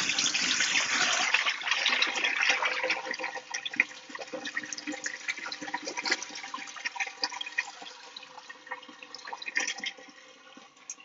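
Tap water gushes steadily into a sink strainer as salty pastrami is rinsed, a close, continuous splashing rush that eases slightly toward the end, with no voices.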